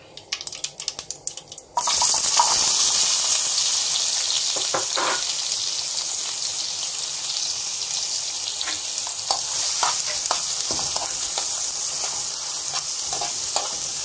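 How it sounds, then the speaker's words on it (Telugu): Sliced onions fry in an oily pan for an egg roll gravy curry, a steady loud sizzle starting sharply after a brief quieter moment and continuing with occasional clinks and stirring scrapes, no talk. "ఆనియన్స్ వేసుకొని ఫ్రై చేస్తున్నాము"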